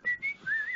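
A short, clear whistled melody of a few warbling notes, close and moderately soft, heard on its own.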